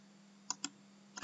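Computer keyboard and mouse in a coding session: a few quick, sharp clicks close by, two spaced apart, then a rapid double click over a faint electrical hum.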